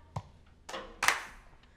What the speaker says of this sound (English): and then you're going to clap.